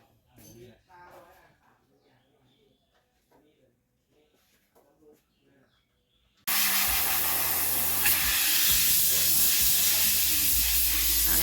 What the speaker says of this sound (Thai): จัดการเป่าฝุ่นความสะอาดแห่งแอรให้ค่ะ